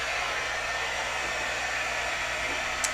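A heat tool melts embossing powder on a stamped card, giving a steady loud blowing whir that holds constant without pause throughout.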